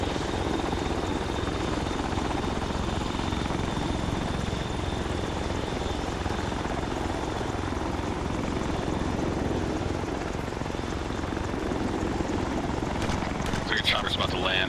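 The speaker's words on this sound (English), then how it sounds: "Is that chopper in the base spooling up?" Military helicopter in ArmA 3 gameplay spooling up at a base, a steady broadband rotor and turbine roar that holds throughout with a faint whine, alone.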